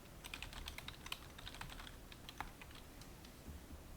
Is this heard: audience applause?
no